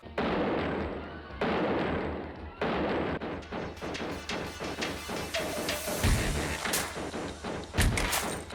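Gunfire from the 1991 action film Lethal Ninja: a rapid string of loud cracking shots and bursts over a busy, dense movie soundtrack, with sharper heavy impacts near the end.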